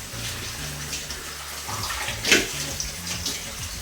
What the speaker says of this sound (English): So now we're just gonna do a little bit of a rinse with the film